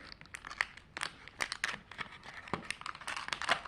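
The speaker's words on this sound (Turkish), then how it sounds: "Bu da açılıyor. Ve paketinden çıktı arkadaşlar." Plastic wrapper of a Dubai chocolate bar crinkles and tears in close, irregular bursts of sharp rustling and crackling as it is opened, with no talking.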